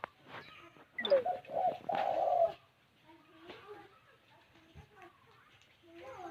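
Dove cooing behind a house, a loud close coo around one to two and a half seconds followed by fainter repeated calls, with other birds chirping and someone talking quietly in the background.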